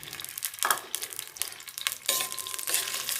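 Semolina (suji) being mixed and roasted in ghee in a pan on a low flame, a gentle sizzling hiss with irregular stirring and scraping strokes, close and fairly quiet, without any voices.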